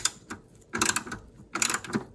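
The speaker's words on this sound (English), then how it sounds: "I've removed the ratchet and I'm carefully removing the screws." A ratchet works screws loose from a Samsung computer monitor stand, giving three bursts of close, crisp clicking separated by short pauses.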